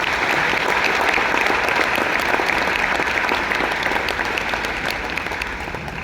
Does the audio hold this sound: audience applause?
yes